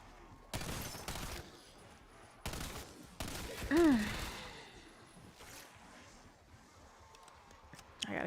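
Gunfire in the video game Call of Duty Warzone's zombie mode comes in several short, sharp bursts at moderate level, with a brief rising tone and faint background game noise between volleys.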